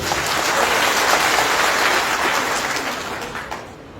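Audience at a BNP party membership meeting in Moulvibazar bursts into sustained applause, a dense wash of many hands clapping for about three seconds before tapering off, with no voices over it.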